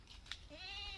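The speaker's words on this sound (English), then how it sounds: "Somebody's goat is here." A goat bleats out in open village land beside uncultivated fields, a short wavering call sounding close and moderately loud over faint outdoor background.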